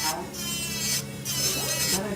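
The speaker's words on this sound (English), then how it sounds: "We're gonna drill" An electric nail drill whirs in a steady high-pitched buzz on a fingernail, working on long nails at a nail salon, with a short break midway and a person talking under it.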